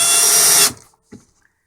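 A Ryobi R18PD5 brushless drill/driver runs at maximum speed driving a screw, a loud high whine lasting under a second that cuts off abruptly, followed by a brief clunk.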